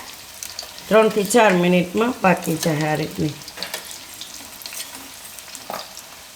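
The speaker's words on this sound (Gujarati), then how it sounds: "આ રીતની બે બાજુ કડક થાય એવી શેકી લેવાની આ રીતની" Semolina cutlets shallow frying in a little hot oil, a steady low sizzle running under a voice for the first few seconds, then continuing softly on its own.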